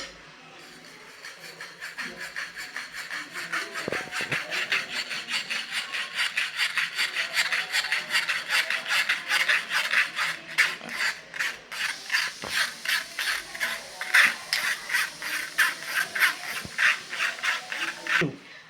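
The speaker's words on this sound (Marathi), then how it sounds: "आता हे मिश्रण आपण गाळून घेऊयात" Tamarind and jaggery chutney mixture is pressed through a sieve, producing rapid, rhythmic scraping strokes close up that keep an even pace for most of twenty seconds.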